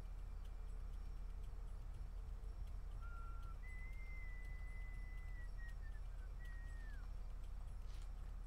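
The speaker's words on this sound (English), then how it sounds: "Oh, he's whistling again." An enemy character whistling in the video game Uncharted 2, a thin sustained whistled tune of a few held notes with a slight dip, fairly faint over a steady low background hum.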